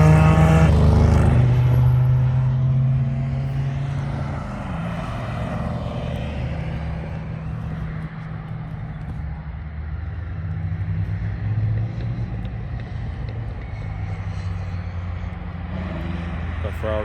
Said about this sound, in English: Ferrari coming around, followed by the Dodge Charger SRT with the 707 horsepower Hemi